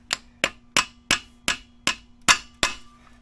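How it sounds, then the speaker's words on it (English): Eight sharp, evenly spaced hammer blows ring out close by as a horseshoe nail is driven into a horse's hoof wall during shoeing, each strike a bright metallic crack with a short decay. "if you give it a good smack"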